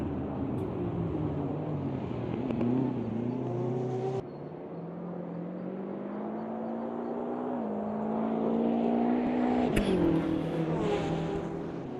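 A BMW race car lapping in a sim racing game, its engine droning and rising in pitch through the gears, steady and fairly close with a brief shift and a sharp click near the end.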